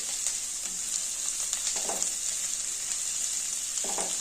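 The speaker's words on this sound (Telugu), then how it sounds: "కరివేపాకు, పుదీనా, ఉల్లిగడ్డలు వేసి ఎంచుతున్నానండి" Curry leaves, mint and onions fry in a pan for upma with fenugreek leaves, giving a steady bright hiss of hot oil close by, with a few soft stirring scrapes over it.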